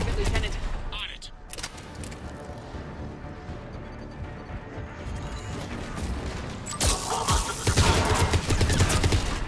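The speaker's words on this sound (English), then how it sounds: "The cannon fire is clearing the way." Cannon fire from the video game Mass Effect 3 crashes out in dense, loud volleys of booming blasts and rattling gunfire. The barrage grows heavier toward the end, with a voice speaking over part of it.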